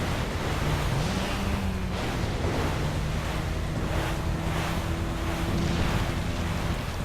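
Rushing water surges in a video game, a steady loud broadband roar that swells and holds for the whole stretch, with faint tonal game sounds underneath and no talk.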